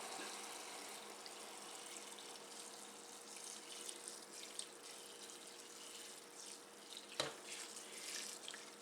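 Boiling water pours steadily into a bowl of vermicelli rice noodles, a continuous close splashing rush lasting several seconds with a small clink near the end.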